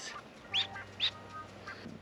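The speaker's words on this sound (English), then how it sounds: "This is one of the ducklings." A newly hatched duckling gives two short, high peeping calls close by, spaced about half a second apart against a quiet background.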